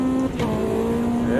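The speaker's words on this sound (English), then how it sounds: "gonna just wheel spin on the way out of here" A race car spins its wheels in Automobilista 2, a high-power turbo machine whose engine drone holds steady under brief tire noise, with a voice talking over it.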